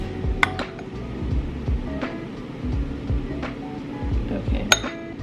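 A spoon clinks against a glass while whipped coffee is stirred into iced milk, giving light repeated taps and ice rattles, with soft speech in the background.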